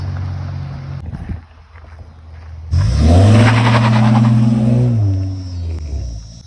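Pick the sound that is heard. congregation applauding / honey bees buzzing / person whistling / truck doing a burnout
truck doing a burnout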